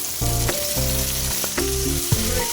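Steady loud sizzle of pointed gourd and mixed vegetables frying in oil in a wok, with occasional clanks of a spatula stirring, no voices.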